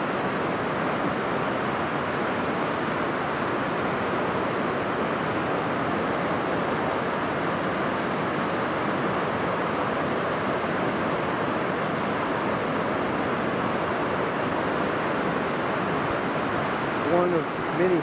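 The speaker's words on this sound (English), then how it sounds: "Here we are at the Enchanted Waterfall." Waterfall at the Enchanted Waterfall pool in Brazil, a steady, dense broadband rush of falling water that holds constant and loud throughout, with no pauses.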